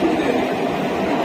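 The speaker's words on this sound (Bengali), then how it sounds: "ট্রেন চলে যাচ্ছে" A train passing close by, with a steady, loud rumble and rushing noise throughout and no voices.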